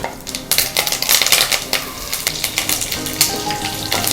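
Curry leaves crackle and sizzle as they drop into hot oil for a tempering with cumin seeds, a dense burst of sharp pops and spitting over a steady frying hiss, close and loud.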